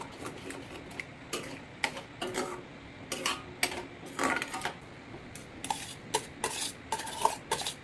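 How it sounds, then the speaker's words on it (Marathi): A spoon stirs dal khichdi with salt and garam masala in a pot, giving repeated scraping and clinking strokes in an irregular rhythm, close and fairly soft, with no talking. "थोडासा गरम मसाला टाकणार आहे मी, आणि हे चांगलं ढवळून घ्यायचं"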